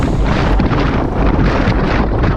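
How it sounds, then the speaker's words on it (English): Heavy wind roars across the microphone during a fast group road cycling ride at around 43 to 44 km/h, a loud, unbroken rumbling blast with no voices. "Listen to that wind."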